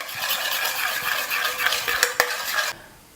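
A raspberry jelly mixture with a little lemon juice is stirred in a pot, a steady close scraping swirl with a few sharp clinks of the spoon, ending abruptly near the close.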